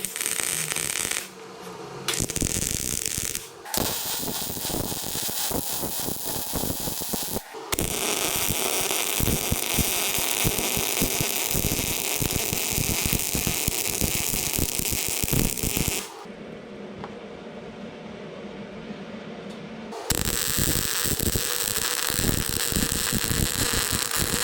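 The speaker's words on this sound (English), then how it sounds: "I know it's not a grinder, it's a cutoff disc, but it works really good taking off mill scale." A cutoff disc grinding mill scale off steel, a loud harsh continuous roar with gritty scraping, stopping and starting in long bursts with brief pauses between.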